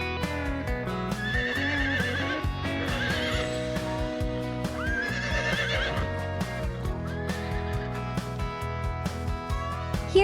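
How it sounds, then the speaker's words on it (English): A horse whinnies several times, its calls rising out of a busy bed of rhythmic backing music with steady beats throughout. "Look at the horse."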